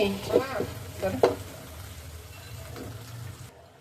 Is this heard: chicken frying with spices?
yes